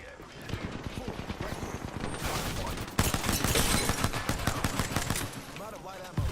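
Video game gunfire: dense, continuous automatic fire rattling for several seconds that grows louder midway, with voices speaking over the shooting.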